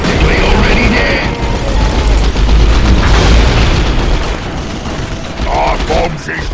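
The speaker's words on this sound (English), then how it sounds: "This tank makes the loudest boom." A tank fires and explodes in a Warhammer 40K Dawn of War Soulstorm battle between Orks and Tau, with loud, continuous booms and gunfire rumbling throughout and game voices over the din.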